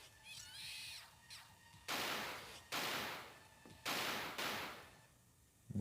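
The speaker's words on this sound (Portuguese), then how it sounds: "Os tiros aqui porque eu não consigo mirar na direção certa dele" Gunfire in the survival horror game Alone in the Dark: The New Nightmare: four loud, sharp shots at irregular intervals, each trailing off, after a brief eerie cawing sound at the start.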